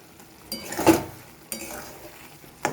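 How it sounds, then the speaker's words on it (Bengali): Tomato pickle is stirred in a pan with a spoon, a few distinct scraping clacks against the metal spaced apart over a soft background sizzle, close and fairly quiet. "এবার আরও কিছুক্ষণ আমি এইভাবে নেড়ে নেব"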